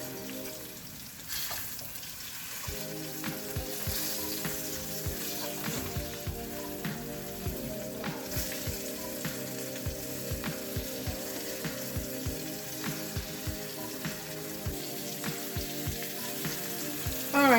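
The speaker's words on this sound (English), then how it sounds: "All right, so here are my short ribs. I'm browning them." Floured short ribs browning in a pan give a steady, dense sizzle with crackles and pops throughout, close and fairly loud, with no voices.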